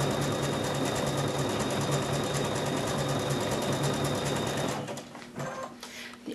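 A sewing machine stitches with a winged needle, a steady rapid mechanical whir with fine rhythmic clicking that runs for about five seconds and then stops, leaving quieter handling noises.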